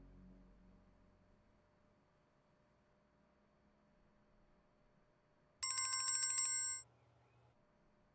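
A mobile phone rings for an incoming video call, a single bright, electronic ringtone burst lasting about a second after a long near-silent stretch.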